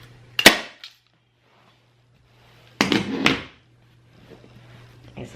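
A staple gun fires two sharp, close snaps a few seconds apart, tacking fabric onto a kitchen chair seat, each followed by a brief rustle over a faint steady hum.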